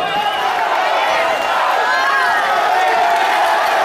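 Crowd at a K-1 kickboxing match in Poprad, Slovakia, keeps up a steady roar of cheering and clapping through the closing seconds of the bout, dense and continuous, with an announcer talking over it.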